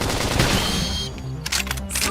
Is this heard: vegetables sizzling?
no